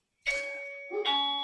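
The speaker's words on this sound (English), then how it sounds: "excuse my bell" A traditional two-tone doorbell chimes once indoors, a bright ding followed by a lower dong, close and clear with a lingering ring and no talk over it.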